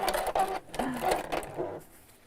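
A long-arm sewing machine stitches in a rapid, even mechanical whir for about a second and a half, then slows and fades out.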